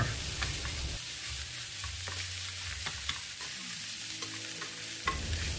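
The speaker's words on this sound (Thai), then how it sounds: "คนส่วนผสมให้เข้ากัน แล้วก็ผัดต่ออีก2-3นาทีค่ะ" Kimchi fried rice is stir-fried in a pan, with a continuous sizzle and repeated scraping strokes of the utensil against the pan, close and alone.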